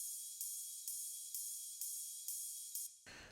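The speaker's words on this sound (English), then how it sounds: "what I've added in the second drop, as opposed to the first one, is this ride right here" A bright, shimmering ride cymbal struck in a steady pulse, roughly seven hits, each ringing into the next in a second drop of an electronic track, then cutting off abruptly to a brief noisy tail.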